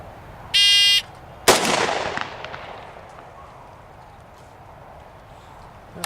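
A shot timer gives a short electronic beep, and half a second later a single sharp, loud pistol shot rings out and decays into a long echoing tail. Quiet range ambience follows.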